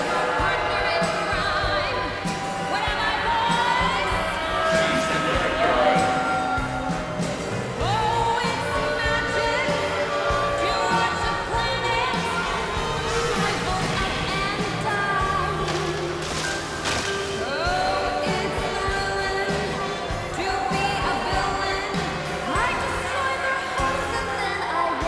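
A large arena crowd cheers and murmurs steadily before a Street Fighter match in which Chun-Li faces Lord Dominator, with commentators talking over the loud, continuous roar throughout.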